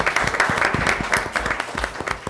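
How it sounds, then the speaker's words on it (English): Applause ringing out at a press conference in Los Angeles, dense steady clapping from a crowd that holds at full strength for about two seconds, with no talk over it. "That deserves a big round of applause."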